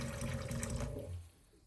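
A filtered water dispenser in an off-grid kitchen fills a cup with a steady, rushing pour of water that runs for about a second before cutting off and leaving only a faint tail.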